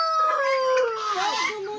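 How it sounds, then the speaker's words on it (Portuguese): A hen on a hot farmyard with other poultry nearby, giving tonal, wavering calls that rise and fall steadily through the whole stretch, fairly close and loud, with no talking over them. "E uma galinha aqui, ó."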